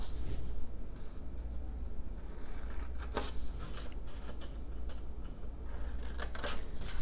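Scissors snipping squares out of paper card at the corners, a series of soft, close crisp cuts and rustles at low volume with no talk.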